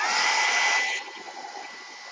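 A hair dryer blows steadily to dry an art journal page, a loud airy whoosh for about a second before it drops to a lower, softer hum as the setting or distance changes.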